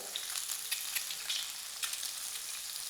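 Boiled, cut eggs frying in hot oil on a tawa over lowered heat, a steady crackling sizzle with small sharp pops, alone and close throughout.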